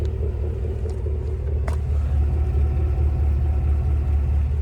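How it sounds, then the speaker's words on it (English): Low, steady rumbling idle from the dual exhaust of a 2024 GMC Yukon Denali Ultimate, close and continuous, a deep even growl without revving. "Love that dual exhaust. Has a nice growl to it"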